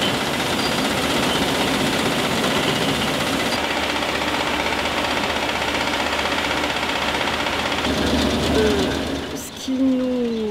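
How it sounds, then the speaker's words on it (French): A shared grain sorting machine runs steadily on an organic bread farm. It gives a continuous rattling, vibrating mechanical drone heard from a short distance, with a brief squeak near the end. "Ce qui nous sert peut-être de bruit de fond, bien qu'on s'en soit légèrement éloigné, c'est le bruit du trieur"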